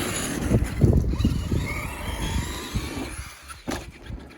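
A radio-controlled short course truck running a lap of a home-built dirt track, its electric motor whining and surging in bursts with rattling suspension and tire noise, close and fairly loud, with no talking.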